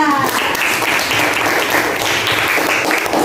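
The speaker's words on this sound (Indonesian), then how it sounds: "Tepuk tangan buat Riza." Students in a classroom applauding a classmate's answer, a dense continuous clapping from a group of children, close and fairly loud, with a voice briefly at the start.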